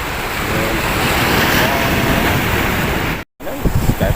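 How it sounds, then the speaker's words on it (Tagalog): Strong, rough sea waves crash and surge against a breakwater in bad weather, a continuous loud wash with wind buffeting the microphone, cut briefly by a dropout before voices and handling noise return near the end. "Grabe nga kasang alon guys"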